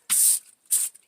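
Cooking spray is squirted onto a cooling rack's ridges to keep oven-fried chicken from sticking, in two short, close, sharp hissing bursts with a pause between them.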